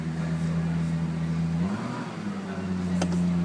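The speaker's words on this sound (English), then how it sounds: "I'm just going to rev it up here." A 2012 Lexus LFA supercar's engine revs steadily and loudly close by, the pitch rising at mid-clip as the throttle opens, then holding at a higher drone.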